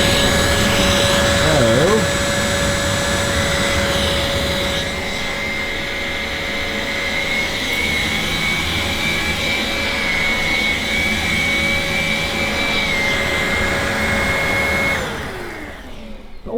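A cordless vacuum cleaner runs in boost mode with the brush bar off, producing a steady close drone with a high whine that winds down at the end; a voice may be faintly present.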